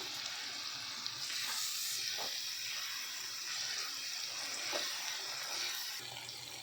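A paste of coriander, mint and green chilli fries in a hot pan with a constant, dense sizzle and occasional faint stirring scrapes, close and without talk.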